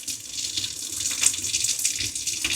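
Tap water runs steadily into a kitchen sink as yeast is prepared for cinnamon roll dough, a continuous close hiss of flowing water with no talking.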